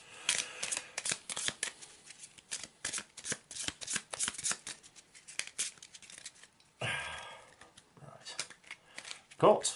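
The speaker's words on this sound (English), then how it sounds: "No, just shuffle the deck." Deck of game cards shuffled repeatedly during an Arkham Horror board game session, a run of quick crisp riffling bursts close by, with a longer rustling pass near the end and brief talk mixed in.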